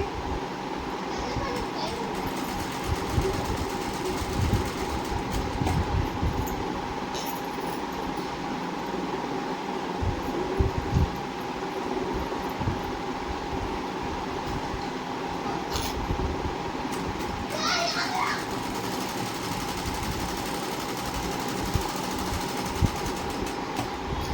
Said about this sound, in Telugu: ఇలా పెట్టి మనం స్టిచ్చింగ్ అనేది చేసుకోవాలి